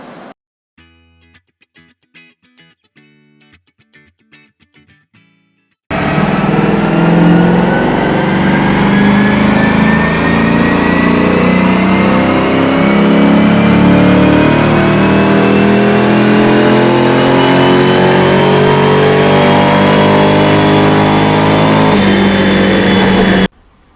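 An LS3 V8 swapped into a Mazda RX-8 runs on a dyno. After a few seconds of faint clicks it bursts into a loud, sustained pull, the revs rising steadily for close to twenty seconds before cutting off sharply.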